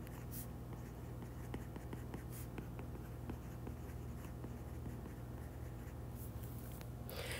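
Marker or chalk scratches across a board as a note is written out, with close, soft, irregular strokes and taps running steadily over a low room hum, and no one talking.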